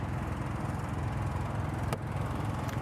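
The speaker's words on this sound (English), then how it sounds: "down here I do have the generator running" An RV generator on a Winnebago Era 70A 4x4 runs as a low, steady engine drone, fairly quiet and constant, with a brief click partway through.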